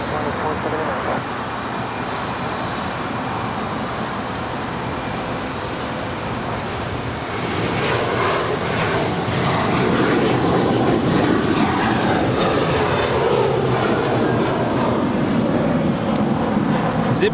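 An American Airlines jet taking off from runway 25 right at LAX gives a broad, steady engine roar that swells louder in the second half, with radio chatter and voices mixed underneath.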